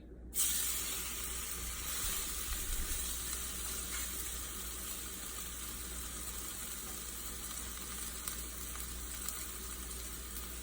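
A roast sears in a hot skillet, giving a steady, fairly quiet hiss and sizzle that starts suddenly and keeps going without a break and without any talking.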